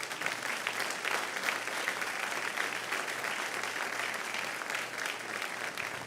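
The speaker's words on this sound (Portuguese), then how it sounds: "dá uma linda salva de palmas" A church congregation breaks into sustained applause during a worship service, a dense, even clatter of many hands clapping, filling the room steadily without a pause.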